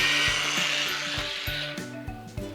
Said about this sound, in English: I'm just going to drill a hole right there in that center